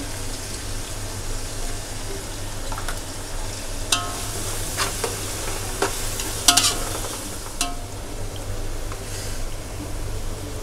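Garlic fries in oil in a pan with turmeric added for a Konkan jackfruit vegetable dish, a constant sizzle under repeated sharp scrapes and taps of a spoon stirring against the pan. No one speaks.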